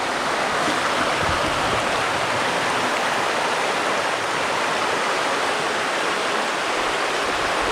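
A forest stream beside a picnic area in Monongahela National Forest rushes in a steady, dense, unbroken wash of water noise that fills the scene without pause.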